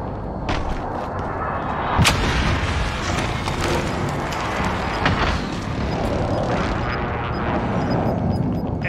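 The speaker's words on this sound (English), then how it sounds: "Enemy precision airstrike." Enemy precision airstrike in Call of Duty Warzone, a rapid barrage of heavy booming explosions rolling continuously, loud and dense, with a few sharp blasts standing out.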